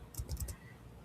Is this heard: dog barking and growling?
no